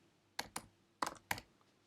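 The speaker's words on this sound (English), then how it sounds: "So let's type that in." Quiet, close typing on a computer keyboard: four short key clicks in two uneven pairs, alone with no talk.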